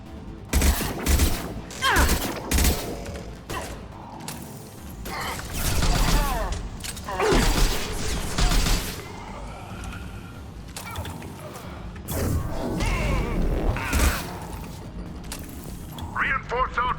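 Gunfire in the sci-fi shooter Mass Effect 2 during Kasumi's Loyalty Mission, with bursts of shots and mechanical clatter spread across the scene, loud and busy, mixed with game voices and sound effects.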